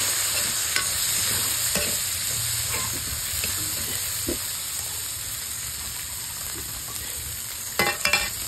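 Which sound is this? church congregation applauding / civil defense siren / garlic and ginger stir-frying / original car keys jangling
garlic and ginger stir-frying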